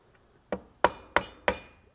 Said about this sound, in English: if you come down here, you're going to nail straight across from it